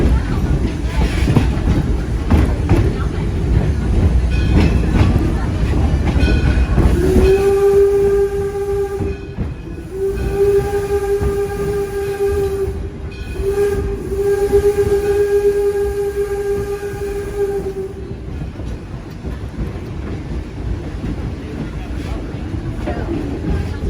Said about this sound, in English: The historic locomotive pulling us today is the number 7 Detroit and Lima Northern Railway steam locomotive